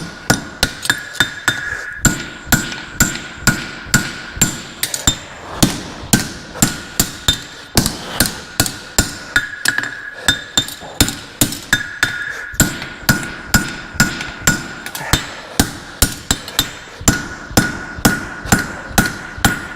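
A farrier hammering a horseshoe on an anvil, a long run of loud, ringing metallic blows struck in a quick, steady rhythm with brief pauses between bursts, close by and without talk.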